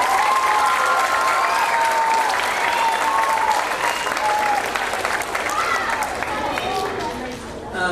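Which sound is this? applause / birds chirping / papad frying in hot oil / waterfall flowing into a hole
applause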